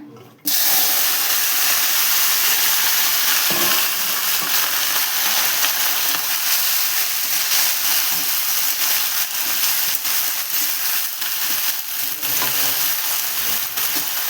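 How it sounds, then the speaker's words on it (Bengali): Loud, continuous sizzling of vegetables frying in hot oil in a wok, close up, with occasional stirring scrapes and clicks throughout. "কড়াই তেল গরম হয়ে গেছে এখন আমি আনাজগুলো ভেজে নেবো আগে"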